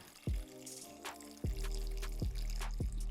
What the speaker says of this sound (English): And we're going to add 3 cups of water.